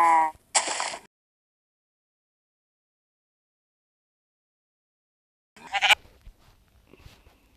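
Sheep in the Minecraft video game bleat in short, clear cries, two at the start and another after a long silent gap, each brief and close.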